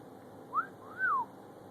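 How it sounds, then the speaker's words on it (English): A pet bird whistles two short rising-and-falling notes, the second longer and sliding downward, clear and close over a low steady background hum. "You whistle?"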